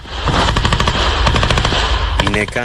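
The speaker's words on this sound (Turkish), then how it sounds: "Bir askerin taşıdığı kameranın kaydettiği görüntülerde sürekli silah sesleri duyuluyor." Continuous automatic gunfire crackles through a firefight involving soldiers around a house, rapid close bursts filling the whole stretch, with a voice briefly audible near the end.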